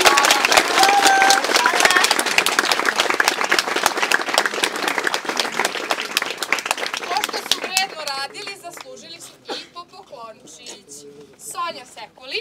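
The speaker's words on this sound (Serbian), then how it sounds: "idemo sad još jednim ogromnim aplauzom da pozdravimo ove krasuljke" Audience applause and cheering for child performers at a children's group show, loud crowd clapping for about eight seconds that then fades as voices, including children, talk nearby.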